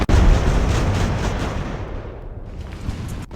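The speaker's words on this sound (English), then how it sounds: "It sounds like large cannon." A large cannon booms in the age-of-sail battle game Ultimate Admiral: Age of Sail, a loud blast whose rumbling roar decays over a few seconds before a sharp click at the end.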